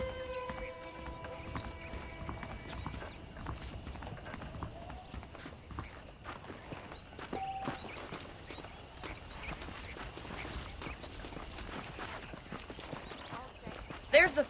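Horse hooves clip-clop at a steady trot in the video game Red Dead Redemption, faint and continuous, with background ambience and a louder thump right at the end.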